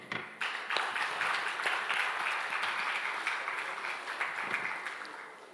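Steady audience applause for a veterinary researcher at a conference session on animal disease management, a moderately loud even patter of many hands that tapers slightly toward the end.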